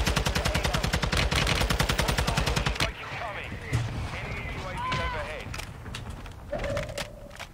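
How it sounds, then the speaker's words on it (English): Mortar strike explosions in the video game Fortnite arrive as a rapid, loud volley of blasts that breaks off abruptly, followed by quieter game sounds and scattered effects. "Somebody did a mortar strike on us"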